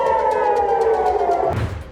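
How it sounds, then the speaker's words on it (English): A loud civil defense air raid siren wails on a sustained tone, then drops away as the pitch falls, a warning of a missile strike on Israel. "the missile strike, which set off sirens across several regions and sent civilians scrambling for safety"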